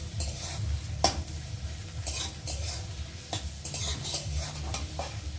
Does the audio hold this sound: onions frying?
yes